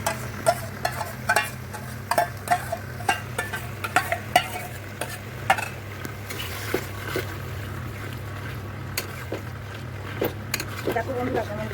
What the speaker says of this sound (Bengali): এবারে দইটা দিয়ে দিচ্ছি।